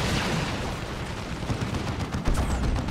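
Grenade blast and gunfire from Dire Avengers in a Dawn of War 2 3v3 real-time strategy battle, a dense continuous crackle of shots with a sharper boom near the end, loud and steady throughout.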